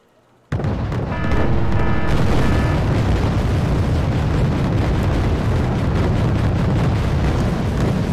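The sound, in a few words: explosion in a ship's ammo room, video game Wargame: Red Dragon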